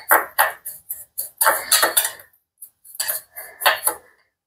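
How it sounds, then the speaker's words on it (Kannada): A homemade face scrub made with coconut oil is stirred in a bowl, giving a run of irregular scraping and clinking bursts with short pauses between them. "ಇವಾಗ ಇದನ್ನ ಫಸ್ಟು ಚೆನ್ನಾಗಿ ಮಿಕ್ಸ್ ಮಾಡ್ಕೋಬೇಕು ನಾವು."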